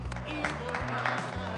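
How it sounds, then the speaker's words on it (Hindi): A cartoon scene with a short round of clapping applause, sharp hand claps mixed with a steady tonal background and some voices underneath. "तालियां।"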